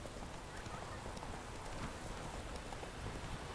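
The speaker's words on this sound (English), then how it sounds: "It's raining." Steady rain falls outdoors, a dense, even hiss of drops hitting surfaces with no break and no voices.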